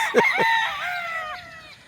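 A young rooster, a stag kept tied up, crows once up close: a loud, slightly rough call that starts with two short bursts and then stretches into a long, wavering tone that fades out.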